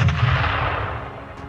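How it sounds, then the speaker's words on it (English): A loud grenade blast from the video game Halo Reach, a sustained broadband roar with heavy low-end thump that slowly decays over about a second and a half, heard alone without voices. "a monofile that plays from the point where the grenade is exploded"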